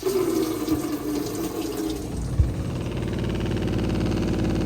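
Water runs steadily with a rushing flow from a pump, joined by a low motor hum that settles into a rhythmic pulsing drone; no voices.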